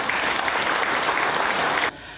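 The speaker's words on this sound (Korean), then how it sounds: "박수를 보내드립니다" A room full of people at a victim support center's inauguration ceremony claps in steady, dense applause that stops abruptly.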